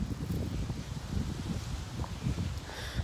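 Steady low rumbling wind buffeting the microphone outdoors, with a faint rustle throughout and no voices.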